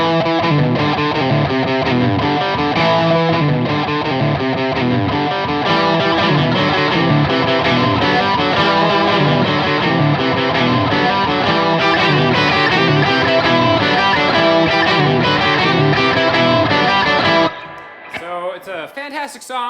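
Distorted electric guitar playing looped riffs, dense and loud with steady galloping rhythm throughout, cutting off near the end into a few sparse, quieter notes.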